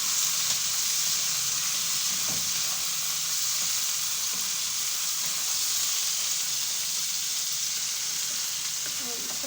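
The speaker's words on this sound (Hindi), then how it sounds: "मैंने भिंडियाँ कढ़ाई में डाली हैं फ्राई होने के लिए" Okra (bhindi) frying in a kadhai, a continuous bright hiss and crackle of hot oil heard close and steady throughout, with a few faint stirring knocks.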